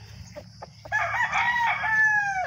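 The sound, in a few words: fighting rooster crowing and clucking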